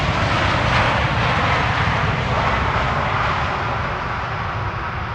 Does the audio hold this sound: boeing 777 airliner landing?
yes